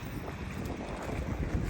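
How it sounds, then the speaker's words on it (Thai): Strong, cold wind buffeting the microphone outdoors in a steady, loud rumbling rush, with no talking. "โอ้ลมแรงหนาว"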